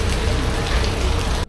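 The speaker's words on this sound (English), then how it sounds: "it's been almost an hour of heavy-duty non-stop rain" Heavy, non-stop rain pours in Guadalajara, Mexico, a loud and dense close-up hiss that cuts off abruptly after about a second and a half.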